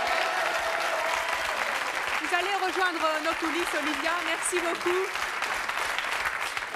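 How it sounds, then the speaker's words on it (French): Studio audience applause for a departing singing contestant on a French TV talent competition, steady clapping throughout while a host speaks over it. "On peut l'applaudir très fort."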